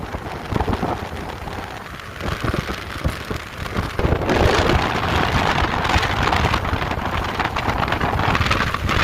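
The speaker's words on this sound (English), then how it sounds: "it's way too cold and windy to be sitting over a water hole" Strong, cold early-morning wind buffets and roars across the microphone at a water hole on safari, growing louder partway through, with a rain-like hiss underneath.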